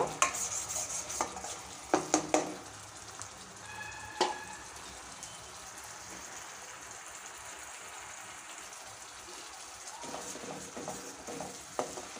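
Spice masala fries in oil over a medium flame for methi kofta curry, a low steady sizzle broken by scattered scraping stirs and a few clinks of the spoon against the pan, with no voices.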